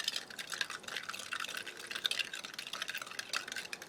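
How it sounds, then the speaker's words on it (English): Water pours steadily into a roughly 300 ml glass holding drink powder from a British Army Cadet Patrol Ration Pack, a close, continuous splashing fill with no talk over it. "Get as much water in there as I can because that's about a 300 ml glass"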